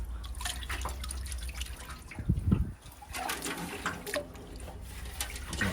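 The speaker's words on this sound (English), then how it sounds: "You can hear all those bits of rust in here." Bits of rust rattling and sloshing in vinegar inside the fuel tank of a barn-find Honda VFR 400 NC30 motorcycle: a continuous gritty, watery churning with a louder swirl midway.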